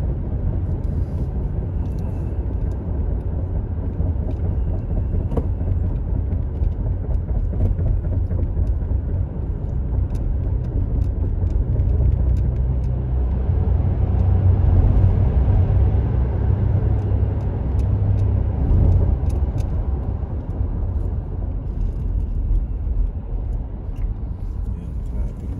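Steady rumble of cars rolling along the I-405 highway, a dense low roar that swells slightly midway as vehicles pass, with a voice talking over it.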